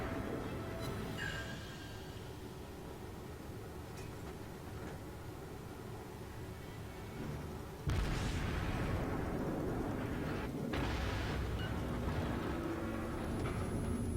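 Heavy naval gunfire from a Pensacola-class cruiser in World of Warships, loud booming salvos with a big blast near the eight-second mark over a constant rumbling battle backdrop, no talking.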